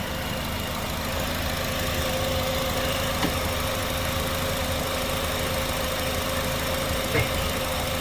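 A Honda Accord 2.4-liter engine idles at a steady low hum, with a faint, even mechanical rattle that stays constant throughout and no talking.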